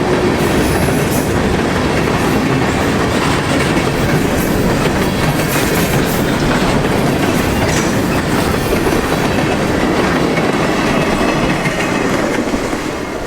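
Freight train rolling south toward Tamaqua and Port Clinton on a Pennsylvania line, a steady loud broadband roar of wagons and wheels with rhythmic clickety-clack throughout, close and continuous with no voices.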